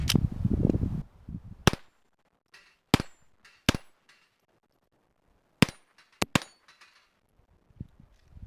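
A Ruger Mark III pistol firing .22 LR rounds, about seven sharp cracks spaced irregularly with quiet gaps between, a couple fired close together, following a short burst of noise at the start.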